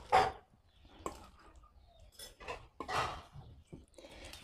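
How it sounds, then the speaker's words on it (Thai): Sausage salad ingredients are stirred in a bowl, giving several soft clinking and scraping knocks of a utensil against the dish at irregular intervals, close and fairly quiet. "คนส่วนผสมให้เข้ากัน"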